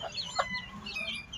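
Japanese bantam chicks and a broody black hen clucking and peeping while they eat, soft close calls repeating in short bursts over a low background.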